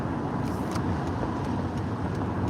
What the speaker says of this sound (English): So there is a truck here at the lumber yard.